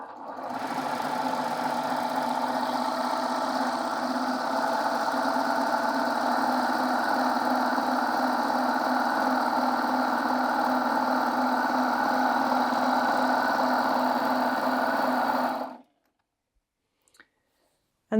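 A Baby Lock Gloria overlocker runs steadily for about fifteen seconds, stitching a decorative edge on delicate fabric with a loud, even mechanical whir, then stops abruptly, leaving near silence.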